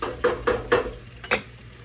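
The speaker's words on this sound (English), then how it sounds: "You can hear our onions starting to sizzle a little bit there." Soft crackling sizzle of onions frying in a pan, broken by a few rhythmic scraping stirs, close and moderately quiet.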